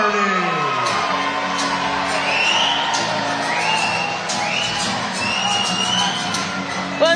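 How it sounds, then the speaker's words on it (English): Boxing crowd at York Hall, London roaring as a fighter enters the ring, a dense sustained roar with shouts and whoops rising over it, loud and close throughout. "Sonny, the instigator Hardy, comes to the ring to an absolute roar from the crowd"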